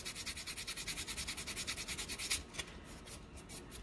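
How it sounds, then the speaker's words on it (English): Sandpaper rubbed along the edge of an EVA foam prop piece, a steady, rhythmic back-and-forth scratching of quick, even strokes, fairly quiet and close, then a few slower, lighter rubs. "if you don't have a rotary tool, sandpaper works great"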